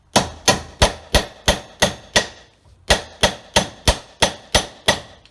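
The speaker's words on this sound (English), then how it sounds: "You can hammer it all the way down like that if you like." A hammer drives a Plymouth Barracuda door hinge pin down with sharp metallic blows, close and loud: a steady run of about seven strikes, a short pause, then about eight more, each ringing briefly.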